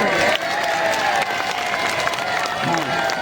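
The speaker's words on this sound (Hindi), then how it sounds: "जोरदार तालियां बजा दे" Applause from a crowd at an outdoor political speech at a town chowk rolls on as a steady, loud wash of clapping, with a voice and some cheering cutting through at points.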